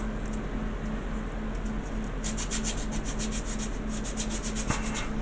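Close, rapid back-and-forth rasping from a sanding stick smoothing a plastic LED shroud piece for a Mobius Models USS Franklin kit; the quick rhythmic strokes start partway through over a low steady hum.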